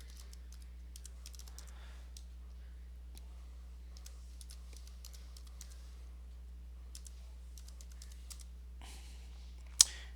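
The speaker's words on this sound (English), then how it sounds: "I'm gonna type Wine and then the name of the file." Steady close typing on a computer keyboard as a Wine command and file name are entered in a terminal, irregular rapid keystrokes over a faint low hum, ending in one sharper louder key strike.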